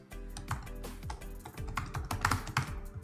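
Code being typed on a computer keyboard: quick, close, uneven key clicks arrive in rapid bursts with short pauses between them, and nobody speaks.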